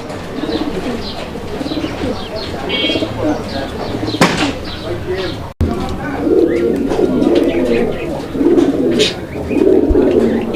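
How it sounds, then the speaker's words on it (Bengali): A pair of fieldback pigeons coos in soft, low, repeated calls close by, while someone talks over them for most of the stretch. "এটা হচ্ছে আপনার ফিল্ডব্যাক কবুতর একটা জোড়া"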